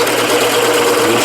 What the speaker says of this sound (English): Very slowly and carefully drill that hole,